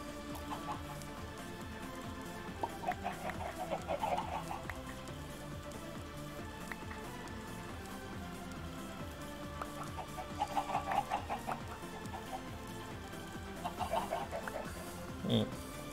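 Minecraft chickens cluck in short bursts during egg collecting in the game, soft and intermittent over a quiet steady background.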